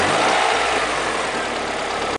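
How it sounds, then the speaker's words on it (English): A car engine runs at a steady idle, loud and close, a continuous broadband drone with no talk over it. "Unusual engine noises."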